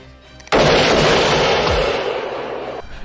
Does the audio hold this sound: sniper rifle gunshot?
yes